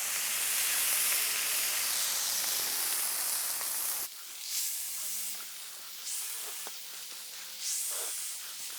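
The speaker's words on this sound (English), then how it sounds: "Once the hot plate is sizzling hot, add some oil and then place the balls of meat on the griddle." Smash burger patties sizzle loudly in oil on a hot griddle, first as a steady dense hiss, then settling into quieter, softer sizzling with occasional sharper bursts.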